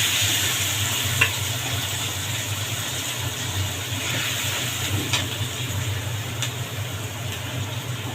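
Onion paste sizzles steadily in hot oil during Bengali home cooking, a continuous close frying hiss with a low background hum and a few faint stirring clicks, no talking.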